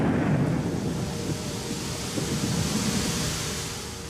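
Heavy driving rain pours loudly and continuously in a flash flood storm over Shadyside, Ohio, in June 1990, a dense roaring wash with low thunder rumbling underneath and no voices.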